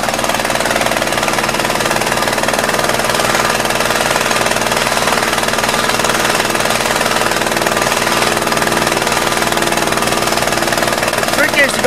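Mikasa MVH-206GH hydraulic plate tamper engine running steadily and loud up close, a dense rapid pounding rumble with constant vibration throughout, no pauses.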